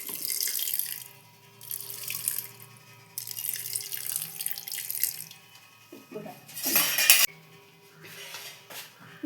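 Water is poured from a vessel over soaked basmati rice for paneer biryani, with close splashing bursts broken by short pauses and a clatter of utensils.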